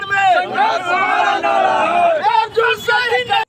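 Ward councillors and their representatives protest outside the Darbhanga Municipal Corporation gate, chanting slogans against the Bihar government in loud, rhythmic unison, voices rising and falling together close by.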